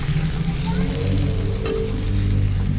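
Banana slices frying in a non-stick pan, a steady loud close sizzle with crackling oil that holds evenly throughout, no talking.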